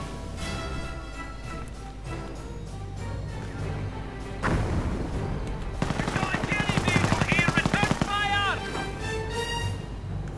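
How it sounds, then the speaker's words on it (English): In a World War II strategy game, a mortar half-track fires an incendiary round amid bursts of machine-gun fire and explosions, under steady commentary. "Mortar half-track fired the incendiary round, but it didn't hit anything at all."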